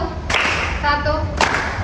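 A class of students claps once together in a classroom, a short sharp burst near the start, followed by scattered lighter claps and faint murmuring in the room.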